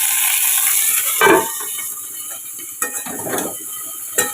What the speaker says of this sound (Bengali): আর এদিকে মাছ ভাজাটা হচ্ছে,